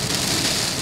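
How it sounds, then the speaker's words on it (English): A hail storm near the Washington State coast: dense, loud, steady pelting of hailstones with no gaps and no voices. "Big hail."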